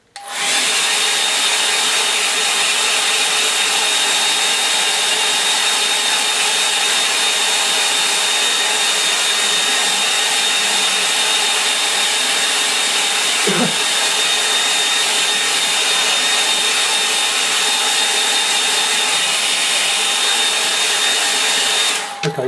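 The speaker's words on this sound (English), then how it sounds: "I'll dry it with the hairdryer." A hair dryer drying a watercolour painting blows continuously at close range, a loud steady whooshing roar with a high motor whine that barely changes throughout.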